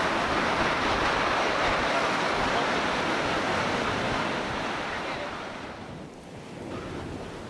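Huge ocean waves break at a lagoon where turtles come ashore near rocks, giving a continuous, loud roar of surf that eases slightly near the end, with some wind buffeting the microphone.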